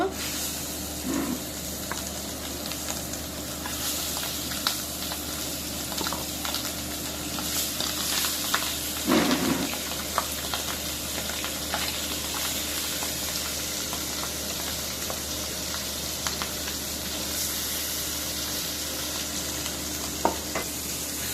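Pangas fish fries in hot oil with a steady, dense sizzle that holds for the whole stretch, broken by a few brief crackles and pops, with no talking.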